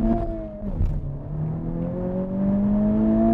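A 2021 Honda Civic Type R engine revs hard and steadily climbs in pitch toward 7,000 RPM, loud and close, after a brief dip near the start.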